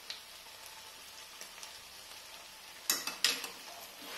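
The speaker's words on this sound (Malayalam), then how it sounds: "മല്ലിയില ഇട്ടൊന്ന് ഇളക്കിയിട്ട് നമുക്ക് ഗ്യാസ് ഓഫ് ചെയ്യാം" Momo filling sizzles faintly in a pan on a gas stove while fresh coriander leaves are stirred in; a low steady frying hiss runs throughout, broken near the end by two brief, louder scraping stirs.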